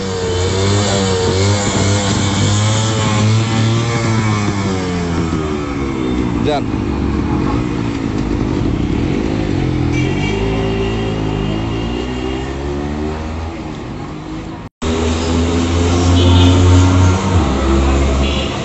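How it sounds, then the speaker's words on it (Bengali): A modified Honda CD 100 motorcycle rides past on a test drive, its engine droning and revving loudly up close for most of the run, with a brief cut and a short spoken word partway through. "তো চলুন বাইকের টেস্ট ড্রাইভটি দেখা হোক"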